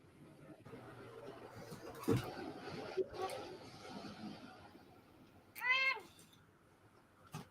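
A cat gives one clear, rising-and-falling meow near the end, preceded by quieter rustling and background murmur, moderately close but not loud.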